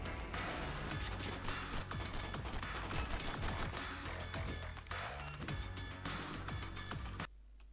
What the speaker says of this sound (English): I'm aiming right at them and the recoil on the AK